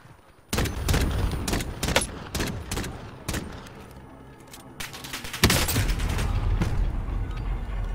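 Video game gunfire with incoming rounds, sharp loud bursts of shots in irregular volleys, building to a dense sustained barrage near the end.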